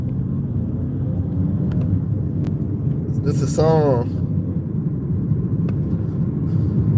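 Car interior road noise while driving: a steady low rumble of engine and tyres runs throughout, with someone speaking briefly over it.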